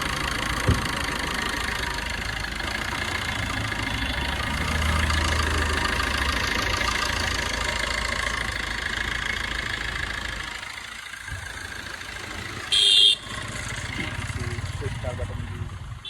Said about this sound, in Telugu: సింగిల్ సెల్ఫ్తో స్టార్ట్ అవుతుంది చాలా సైలెంట్ ఉన్నది బండి